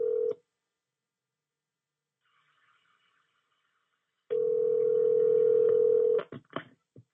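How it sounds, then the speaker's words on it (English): A telephone line gives a short steady tone, falls silent with faint keypad blips, then returns with a loud continuous dial tone for about two seconds before clicks and a few brief bursts. "Calling him again."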